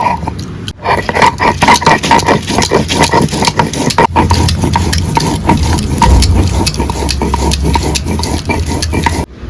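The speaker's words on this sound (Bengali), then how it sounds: "আদা দিলাম গোটা ধনে গোটা জিরে আর কটা লঙ্কা শুকনো লঙ্কা দিয়ে আমি বেটে নিচ্ছি" Ginger, whole coriander, cumin and dried chillies ground by hand on a stone slab, a close, rhythmic scraping and rubbing that repeats in quick strokes throughout, with no voices.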